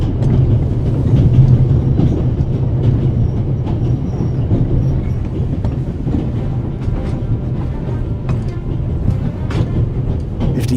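Runaway train in the video game The Raven, a continuous low rumbling rattle of rolling rail cars with faint clicking wheels, steady and close with no talk.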